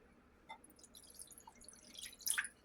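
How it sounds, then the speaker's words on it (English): Faint vinegar dribbling and dripping into a bowl, a few soft splashes building to a brief louder pour near the end. "Pour the vinegar in."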